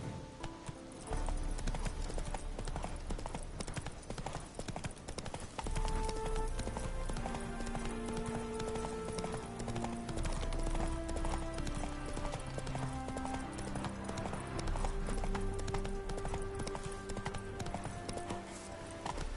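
Hooves from Roach, a horse in The Witcher 3, gallop steadily in a rapid rolling clip-clop over a dense game soundtrack with music, and the galloping runs unbroken throughout.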